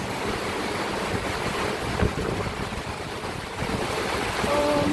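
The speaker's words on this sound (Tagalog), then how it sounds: "Malakas na po yung hangin ng ulan niya." Steady, heavy roar of typhoon wind and rain, broadband and continuous, with gusts swelling near the end.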